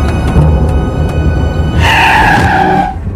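A car brakes hard and skids in a film scene, the tires squealing loudly in a sustained screech that rises over a rumbling engine for about a second before fading.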